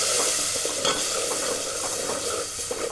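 A coconut, ginger, garlic and cumin masala for a village-style crab curry fries in oil while being stirred. The close, steady sizzle carries repeated scraping strokes, and no one speaks.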